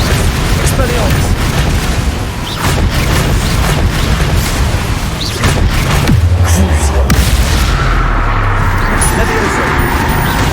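Expelliarmus spell cast during combat in the video game Hogwarts Legacy, with loud booming blasts and bursts of magic layered densely over one another and continuing throughout.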